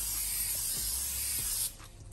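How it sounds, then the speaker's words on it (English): A continuous, close hiss of spray adhesive from an upside-down aerosol can, steady for under two seconds before it cuts off abruptly, while covering a BMW E46 M3 door armrest in leather. "So now with it upside down, spray this first."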